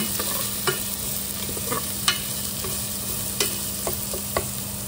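Chicken crisp-frying in a pan with onions and garlic, a steady sizzle broken by scattered pops and the clink of stirring, close and fairly loud with no one talking.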